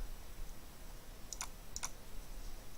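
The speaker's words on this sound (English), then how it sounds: "Right-click on the IT4GIS folder" Two crisp mouse right-clicks on a computer, each a quick double tick about half a second apart, close and clear over a faint steady hiss with no talking.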